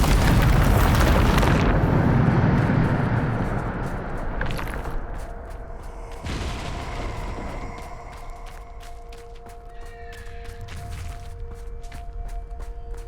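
Bombarda spell explosion in Hogwarts Legacy, a loud booming blast that rumbles and fades over several seconds, followed by scattered debris clatter and a faint ringing tone from the game.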